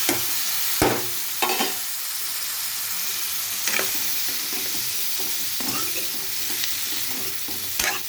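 Chopped ivy gourd pieces with turmeric sizzle in hot oil, a steady frying hiss broken by occasional sharp clacks of a spoon stirring against the pan.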